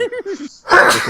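A single sharp sneeze bursts out near the mic right after a few spoken words, breathy and loud, during a tabletop role-playing game session.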